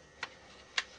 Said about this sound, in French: introduire l'ensemble et aller jusqu'au clic du poussoir de sécurité